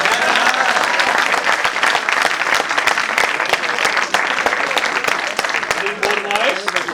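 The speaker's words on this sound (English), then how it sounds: "They deserve more clapping." Audience applause at a talent hunt event, loud sustained clapping from a crowd with some voices mixed in beneath it.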